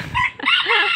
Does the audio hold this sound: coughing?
no